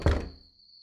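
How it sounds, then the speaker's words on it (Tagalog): A single loud, close thunk of a fist striking a bedroom door from outside, with a short decay and a faint high tone lingering afterward. "biglang may narinig kaming malakas na pagkatok sa labas ng pinto ng kwarto ni Tita Roxanne."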